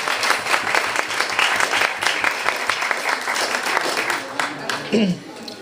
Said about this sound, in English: So please give her a big round of applause for taking that first step.